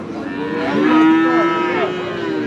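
A single loud, drawn-out moo from a Friesian heifer calf, close by and rising then falling in pitch, with no other sounds.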